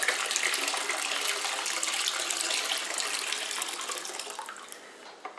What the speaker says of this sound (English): I'm just going to fill it up to the number 5 mark.